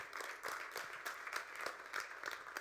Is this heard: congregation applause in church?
yes